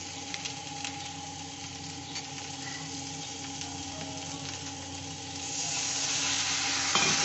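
Tomato drops into spices frying in a little hot oil for a light katla fish curry with potato, pointed gourd and lentil dumplings. A steady close sizzle with faint stirring swells noticeably louder and hissier toward the end.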